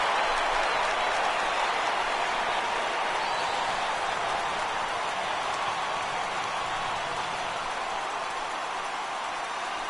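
Roaring stadium crowd in a baseball video game cheering and applauding as the home team clinches the World Series, a dense, steady wall of cheers sustained throughout with no break.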